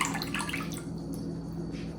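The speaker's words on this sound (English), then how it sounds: "So I lightly rinse it in this little water container" Cut pieces of grass-fed beef are rinsed in a small water container. Close, busy splashing and dripping fills the first second, then eases to a softer, steady wash of water.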